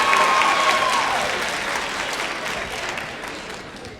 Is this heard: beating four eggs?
no